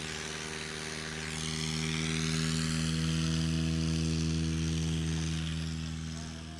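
A 1958 Cessna 182 propeller airplane drones steadily close by at an air show, its engine hum rising as it passes and then easing slightly, with no talk over it.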